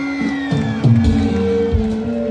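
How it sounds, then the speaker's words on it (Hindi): A huge crowd of some 25,000 to 30,000 people in a marquee at a Grand City housing society event in Arifwala cheers and claps for a performer's entry. Loud, continuous crowd noise is mixed with music. "तालियां हो जाए"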